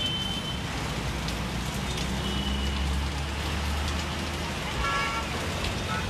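Heavy rain falling steadily in Anand city, Gujarat, a dense continuous hiss of drops on surfaces with a low rumble of passing traffic and a faint horn toot underneath.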